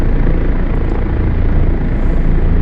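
A Kiowa helicopter in the DCS flight simulator gives off a loud, steady rotor and turbine drone that holds constant throughout, with no talking over it.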